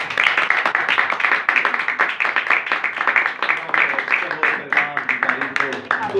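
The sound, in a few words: congregation clapping loudly in church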